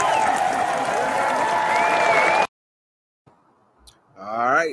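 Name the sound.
audience applause for Dr. Randy Short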